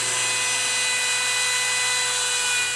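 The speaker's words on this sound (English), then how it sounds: "This 1/4-inch router is all I need." A 1/4-inch handheld router running at full speed, a steady high-pitched whine that is loud, close and constant throughout with no voices.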